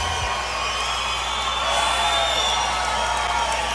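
A large outdoor political rally crowd in Greeley, Colorado, cheering and whooping in a steady, dense roar that swells slightly midway and holds throughout, with no clear speech over it.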